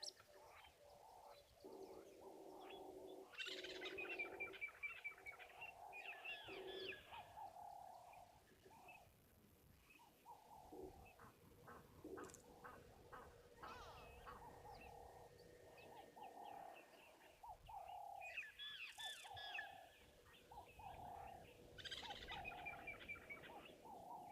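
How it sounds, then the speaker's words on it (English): Long-tailed (Meves's) starlings at an African waterhole give chatty, whistled calls in repeated bursts over a steady bed of other bird chirps and coos, moderately distant throughout. "So those will be Meaves starlings, or the long-tailed starlings"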